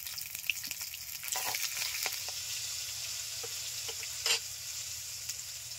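Two dried red chilies torn in half, black cumin and ginger sizzle in hot oil, giving a steady close frying hiss with a few sharper crackles and stirring clinks.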